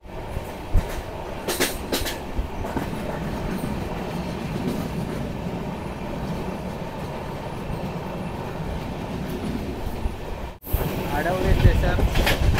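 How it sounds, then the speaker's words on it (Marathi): Passenger train running on the Konkan Railway between Bandra Terminus and Madgaon, a steady rolling rumble with wheel clatter heard from on board, continuous throughout with a brief dropout near the end; voices are faintly present. "आपली ट्रेन आता इकडून निघाली आहे."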